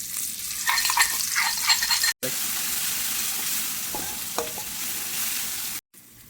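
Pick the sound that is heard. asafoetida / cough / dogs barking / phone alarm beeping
asafoetida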